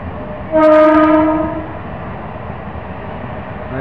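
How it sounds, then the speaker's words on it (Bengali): A Bangaon–Sealdah local commuter train sounds its horn in one loud, steady blast of about a second, then a lower rolling rumble carries on alone with no voices. "আবার সেই বনগা লোকাল যাচ্ছে,"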